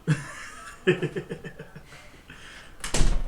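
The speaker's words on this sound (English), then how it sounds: "Homeboy slamming doors out here." A door slams with a sharp, loud burst near the end, following a stretch of muffled laughter and chuckling in a podcast recording room.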